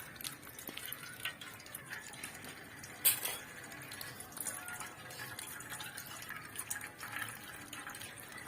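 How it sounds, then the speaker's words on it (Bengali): Raw mango sherbet poured through a strainer, a soft, quiet trickle and drip of liquid with faint clinks of the strainer and utensil against the vessel. "ভালোভাবে এবার ছেঁকে নিই।"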